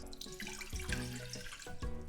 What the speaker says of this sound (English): Then here I'm gonna put in 1 cup of water.